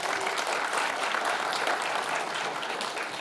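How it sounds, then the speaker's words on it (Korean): Steady, dense applause from a sizable audience at a Seoul policy forum, loud and continuous throughout with no pauses. "박수 한번 주시죠."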